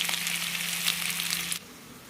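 Slices of pulla ganda sizzle steadily in hot oil, a loud, close, continuous frying hiss that cuts off abruptly after about a second and a half.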